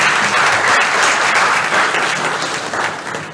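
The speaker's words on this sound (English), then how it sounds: "Let's give them a round of applause." Steady, dense applause from an audience at a high school signing day, honoring the parents of student athletes. Loud and continuous throughout, with no voices rising above it.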